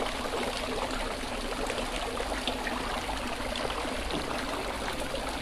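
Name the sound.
water dripping from a shower onto birds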